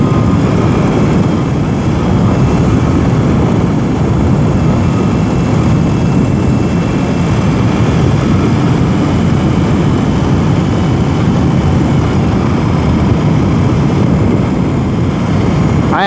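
A 2021 BMW R 18 cruiser motorcycle's big engine drones steadily and loudly while riding twisty roads, blended with heavy wind rush, continuous and close with no speech.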